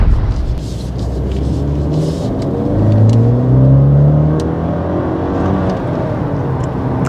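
A Maserati Ghibli GT mild hybrid in sport mode accelerates hard from inside the cabin, its engine rising in a steady climbing drone that swells, eases and continues, loud and close with a whirring undertone.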